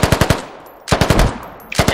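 Rapid bursts of automatic gunfire in the military shooter Squad, a tight string of loud close shots, a brief pause, then another burst and a few more rounds.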